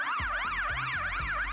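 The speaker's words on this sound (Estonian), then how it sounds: "Jah, see oli tuletõrjeauto heli." A fire truck siren wails in a fast, rising-and-falling yelp pattern, loud and near, over a low rhythmic engine or horn pulse, with no talking.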